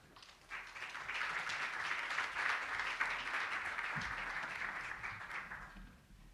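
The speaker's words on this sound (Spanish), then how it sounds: "Por favor, recibámoslos con un fuerte aplauso." An audience at a humanitarian needs-assessment launch in Chile gives a warm round of applause to welcome the speakers, clapping swelling quickly, holding steady for several seconds, then tapering off.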